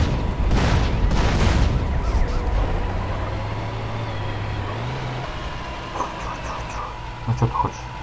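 An explosion booms loudly at the start in a tank rampage in GTA San Andreas, then a low engine drone and scattered game effects follow.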